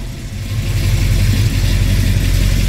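A 1968 Chevelle Malibu V8 idles close by with a loud, deep, throbbing exhaust burble that holds steady and rumbles continuously throughout.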